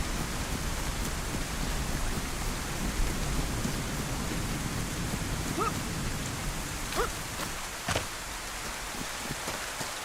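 Steady rain falls in the woods in the survival game Livonia, a dense even hiss of drops with a few sharper patters and faint knocks, continuous and close with no voices.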